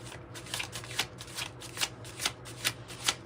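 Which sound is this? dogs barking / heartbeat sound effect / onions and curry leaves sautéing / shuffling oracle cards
shuffling oracle cards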